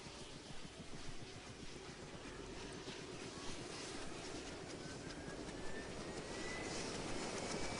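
A helicopter in a video game produces a steady, dense engine roar and rotor rumble, loud and continuous for the whole stretch with no voices.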